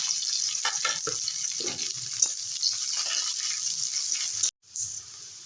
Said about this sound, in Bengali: কড়াতে চার চামচের মতো তেল দিয়েছি এবারে পেঁয়াজ রসুন আটা দিয়ে